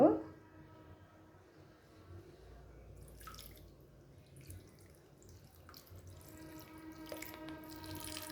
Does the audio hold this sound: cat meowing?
no